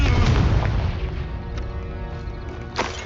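Explosions from a Confringo fire spell in the Hogwarts Legacy video game, with heavy booms and crackling bursts up close, a sharp burst near the end.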